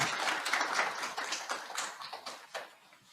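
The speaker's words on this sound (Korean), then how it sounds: "수고해주신 박병인 선임 컨설턴트님께 다시 한번 큰 박수 부탁드리겠습니다" An audience at a 2021 workplace-innovation consulting MOU signing ceremony claps for a senior consultant after a lecture, a dense patter of many hands that gradually thins out.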